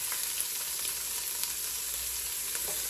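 Food frying gently over low heat in a pan with a little avocado oil, a soft, even sizzle with faint crackles throughout, close and quiet with no talking.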